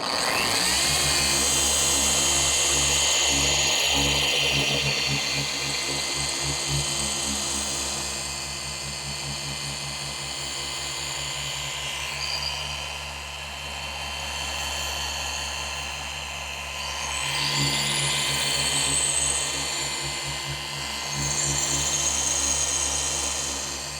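A RUPES dual-action polisher works coarse compound into a surface, its loud, steady motor drone running continuously for the whole stretch with slight swells in pitch and intensity, and no one speaking.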